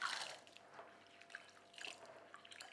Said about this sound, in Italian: Lavo 100 g di uvetta.